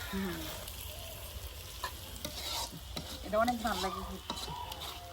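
Okra vegetable dish frying in a pan, stirred with frequent scrapes and clatters over a constant sizzle, close up, with faint voices talking briefly in the background.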